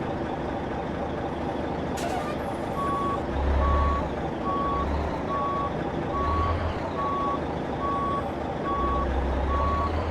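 Mack R Series truck reversing in American Truck Simulator, its steady reversing beeper pulsing evenly over a low diesel rumble, with a brief air-brake hiss early on.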